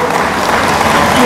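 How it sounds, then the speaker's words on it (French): A brief burst of loud applause for Osman at a powerchair football French Cup draw, a short dense patter of clapping from a close crowd. "alors on peut applaudir Osman."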